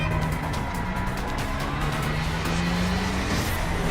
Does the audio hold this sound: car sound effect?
yes